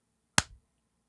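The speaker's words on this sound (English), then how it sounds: "We also got to do clappity claps." One sharp, close clap rings out alone against silence, dropped in as a chat-requested clap effect during a live stream.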